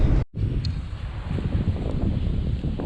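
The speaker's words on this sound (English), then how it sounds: "It's pretty windy today." Steady, heavy wind roars and buffets the microphone, a dense continuous rumble after a brief dropout at the start.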